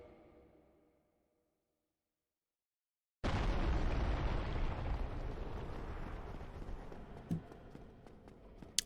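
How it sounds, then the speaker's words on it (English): A wall blowing apart in Dark Souls Remastered: abrupt loud rumbling blast after a moment of silence, followed by a sustained roaring, crumbling wash that slowly fades with scattered debris clatters. "the wall's gonna go kaboom"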